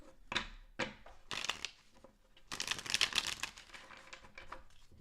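A deck of tarot cards is shuffled by hand in quick riffling bursts, several crisp rustling passes separated by short pauses, close and fairly quiet.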